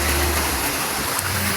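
A creek swollen after heavy rain flows strongly in a steady, broadband rush of water, close and continuous with no voices.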